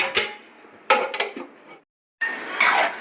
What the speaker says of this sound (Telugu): వేసిన తర్వాత ఇట్లా కలిపి మూత పెట్టుకోవాలి